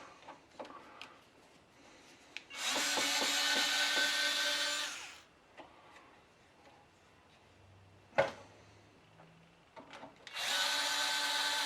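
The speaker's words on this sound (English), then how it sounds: "Now we'll get the rest of these screws out." Power drill backing screws out of the casing of a Bestarc MIG 145 welder, two long steady whirring runs with tool clicks and handling taps between them, close and clear.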